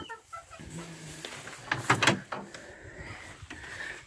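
Purebred Silkie chickens at a farm give a few soft clucks and one louder squawk nearby, over quiet outdoor background noise, with no talking.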